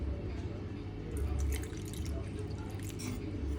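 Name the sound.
pouring water into cornflour and maida batter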